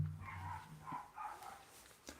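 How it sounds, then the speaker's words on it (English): A neighbour's dog barks next door, several short distant barks spread across a couple of seconds over quiet room noise, faint and muffled through the walls. "Neighbour's dog barking next door, I don't know if you can hear that."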